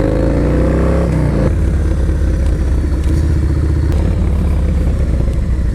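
Yamaha Road Star Warrior 1700 cruiser motorcycle being ridden hard: a loud, close engine roar with rising revs through the first second, then a gear change and continued heavy, throbbing drive under acceleration, with no talk.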